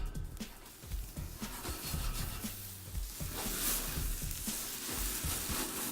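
Lamb meatballs sizzle in a grill pan with a steady, close frying hiss and crackle, broken by occasional scraping and rubbing as they are turned.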